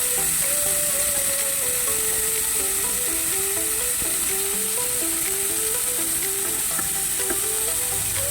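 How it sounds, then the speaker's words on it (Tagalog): Beef pan-frying for fried egg noodles, a steady dense sizzle that runs throughout at close range, with a faint tonal hum riding underneath and no talk. "Pan-fry nyo lang siya."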